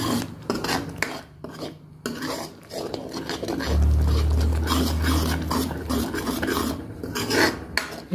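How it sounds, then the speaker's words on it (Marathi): Gravy for egg curry being stirred in a kadhai, repeated scraping and rasping strokes of a spoon against the pan with occasional metallic knocks, close and fairly loud. "हलवत राहायचं आहे, म्हणजे ग्रेव्ही अशी खाली कढईला लटकत नाही आणि डागत नाही."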